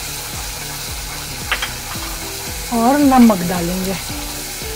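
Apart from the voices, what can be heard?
spice masala frying in a pan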